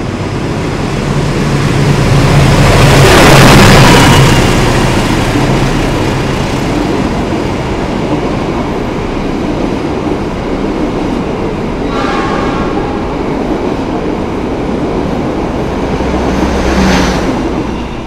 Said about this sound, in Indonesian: berpapasan dengan kereta api Lodaya dari Bandung tujuan akhir stasiun Solo Balapan